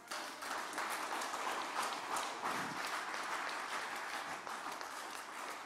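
Applause from a church congregation during worship, a steady mass of clapping and cheering that holds at moderate level throughout without a break.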